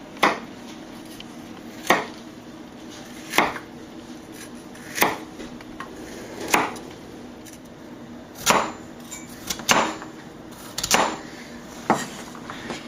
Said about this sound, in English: chop each carrot into about 1/2 inch long slices